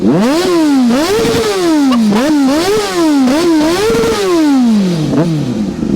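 Triumph TT600 sport motorcycle engine revved repeatedly while stationary, loud close blips rising and falling in quick succession, a screaming high-rev tone, with no talking.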